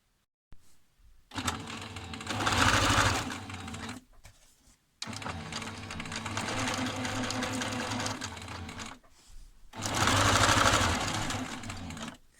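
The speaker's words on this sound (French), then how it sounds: "Cousez-les à la machine pour bien les maintenir." A sewing machine stitches the overlapped ends of elastic together in three separate bursts of rapid rhythmic whirring, the first and last louder, split by brief silent pauses, no voices present.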